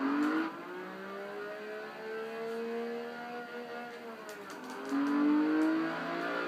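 Engine of a sports car in the racing game Test Drive Unlimited 2 revs steadily upward under slow acceleration, the pitch climbing gradually, easing off briefly, then rising louder again.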